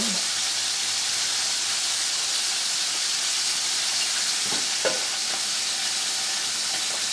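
A steady hiss of water at a rolling boil in a pot on a stove, ready for udon noodles, with a couple of faint clinks partway through and no talking.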